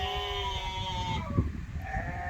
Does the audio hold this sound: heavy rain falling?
no